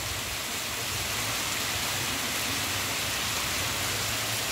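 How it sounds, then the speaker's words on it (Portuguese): Steady rain falls on an afternoon in Acopiara, Ceará, a dense, continuous hiss that stays loud and even throughout, with no voices over it. "Canal Top Sertão mostrando aqui a chuva em Acopiara."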